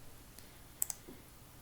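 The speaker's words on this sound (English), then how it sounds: "you can simply click there" A computer mouse gives a quick double click, two sharp, light taps in fast succession, close and faint against near silence.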